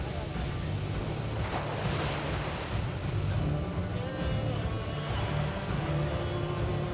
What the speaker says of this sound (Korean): 평상시와 달리 파도가 거세 위험한 상황